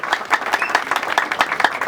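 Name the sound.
audience applause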